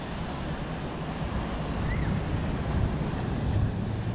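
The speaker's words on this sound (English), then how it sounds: "See, even show you it's windy." Wind blowing at a beach, a steady broadband rush with low rumbling gusts buffeting the microphone, continuous and fairly loud throughout, with no speech.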